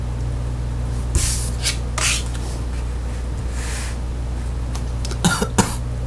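Several muffled coughs break a quiet room, spaced out over a few seconds, the last two close together.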